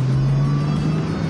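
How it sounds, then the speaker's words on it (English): A Porsche 986 Boxster on the road, its engine a steady, fairly loud drone with a low hum and road noise throughout, heard from inside and with no talking. "Let's get this Porsche on the road"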